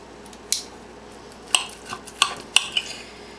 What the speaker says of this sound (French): Maintenant, je vais commencer à couper mon foie.